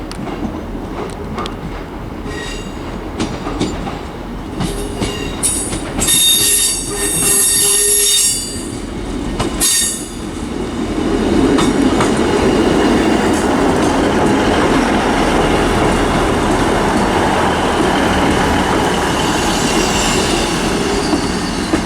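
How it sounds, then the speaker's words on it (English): A ScotRail class 158 diesel unit, service 158729 from Edinburgh Waverley, arrives and terminates at Perth station, loud and close, with screeching wheel and brake squeals, then a sustained rumbling roll and clatter as the carriages pass along the platform. "Okay, train approaching, and now is going to be a terminating ScotRail service from Edinburgh Waverley."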